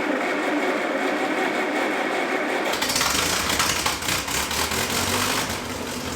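A small gasoline engine with a fuel leak catches after a hiss of cranking and settles into a fast, buzzy idle, close and loud, running steadily to the end.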